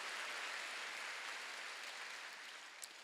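A church congregation at a Wednesday worship service claps together in a broad, even wash of applause that fades slowly, with no voices over it.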